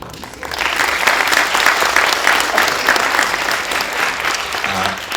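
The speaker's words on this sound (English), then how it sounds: "So a little applause." Warm audience applause for an actor at a film talk rises after a brief soft start and holds as a thick, even patter of many hands, fairly close and steady to the end.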